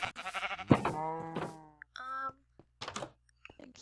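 A few short, nasal sheep bleats in a video game, with clear harmonic wavering, separated by brief pauses, fairly close and loud; a soft low hum underneath.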